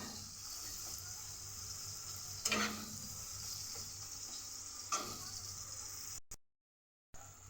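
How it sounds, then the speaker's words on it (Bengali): Chopped onion and tomato sizzle quietly in a pan while being stirred, with a couple of brief scraping strokes standing out over the soft, continuous frying noise. "আর এদিকে আমার পেঁয়াজ আর টমেটোটাও ভাজা ভাজা হয়ে গেছে প্রায়"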